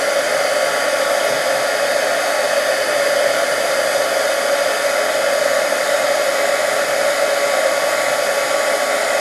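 An embossing heat tool blows steadily as it melts thick clear embossing powder for a cracked glass effect, a loud, even, breathy whoosh held close and unbroken throughout, with no talking.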